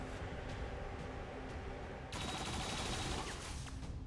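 Turret gunfire in XCOM 2, a dense burst of rapid shots that breaks in abruptly midway and carries on loud to the end over a steady game ambience.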